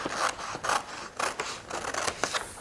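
Scissors cutting paper along a ruled line, five crisp snipping strokes in steady rhythm, close and clear with no talking.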